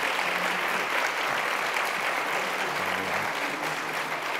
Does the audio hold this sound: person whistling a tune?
no